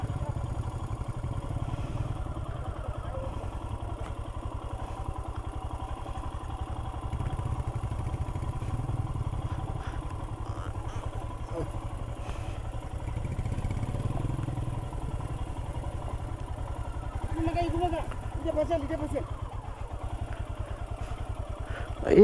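Motorcycle riding on a wet monsoon road toward Jawhar, its rear wheel slipping on a fibre optic cable laid across the surface; a steady, close engine drone runs throughout with rattling clatter and brief voices.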